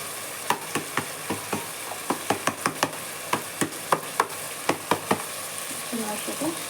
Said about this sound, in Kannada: ಹಾಕ್ಬಿಟ್ಟು ಚೆನ್ನಾಗಿ ಎಣ್ಣೆ ಬಿಡೋವರೆಗೂ ಮಿಕ್ಸ್ ಮಾಡ್ಕೊಳ್ಳೋಣ